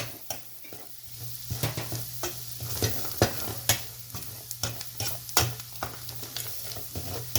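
Mustard seeds frying in a pan with coriander powder, turmeric, salt and chilli, a soft sizzle beneath frequent sharp scraping and tapping strokes of a spoon in an uneven rhythm, no speech.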